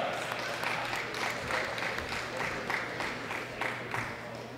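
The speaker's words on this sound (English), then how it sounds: "A big round of applause for Anastasia Safina." Audience applause for a junior women's powerlifting medal winner at a world championship, a steady crowd clapping with a rhythmic, pulsing swell, moderately loud and continuous.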